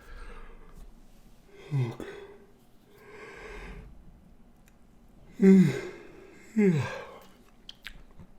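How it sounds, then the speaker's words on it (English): A drawn-out breathy yawn with a couple of soft vocal groans and sighs, close to the listener in a quiet room. "of course I'm about to yawn"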